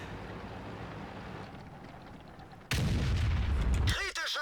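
A Jagdpanzer E100 tank destroyer in a video game fires its gun: a sudden heavy boom cuts through the low engine rumble and is followed by a sustained loud roar, with a sharp metallic clank near the end.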